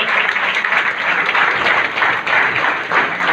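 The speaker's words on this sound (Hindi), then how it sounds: "दोस्तों तालियां उसी तरह जबरदस्त होनी" Steady, loud applause from an audience at an Amway business event, many hands clapping continuously throughout with no pause.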